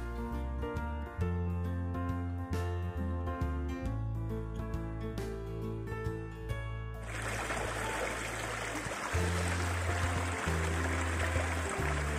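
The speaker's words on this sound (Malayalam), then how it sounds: "ആ വെള്ളച്ചാട്ടത്തിൻ്റെ സൗണ്ട് പിടിച്ചാണ് ഞങ്ങൾ പോയിക്കൊണ്ടിരിക്കുന്നത്" A hidden waterfall in a Wayanad forest can be heard from a trail. Tonal sounds come first, then a broad, steady rush of falling water swells in and carries on to the end.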